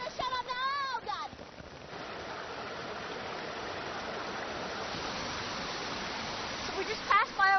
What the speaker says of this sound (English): So this is the waterfall, you see.